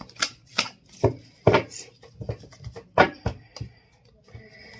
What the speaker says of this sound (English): So let me shuffle again.